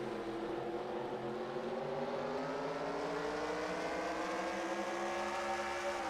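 Race cars at the virtual Stafford Motor Speedway in a racing video game, a sustained engine whine with rising and falling harmonic tones as a pack accelerates, heard without speech.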